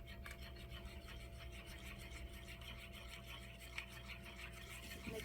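Leftover-rice pudding being stirred in a pot, a steady rhythmic scraping and rubbing of spoon against the pan, close and moderately quiet, continuing evenly without pauses and with no voices.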